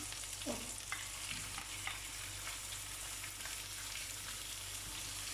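Vegetables begin to heat in a pan for a quick tagine, giving a quiet, steady frying hiss with a few soft stirring scrapes, heard close and alone.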